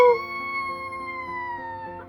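A little Chihuahua lets out one sustained, tonal howl that slowly falls in pitch. It is loud and close, holds for about two seconds and is heard alone.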